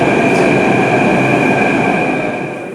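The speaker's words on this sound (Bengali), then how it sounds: "এখানকার মেট্রো চার কামরার ছোট্ট কুচকি মেট্রো" A small four-car metro train in Jaipur runs loudly and close by, a steady rumbling roar with a sustained high whine from the wheels, fading slightly at the end.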